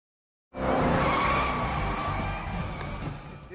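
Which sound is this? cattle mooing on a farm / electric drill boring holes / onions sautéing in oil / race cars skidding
race cars skidding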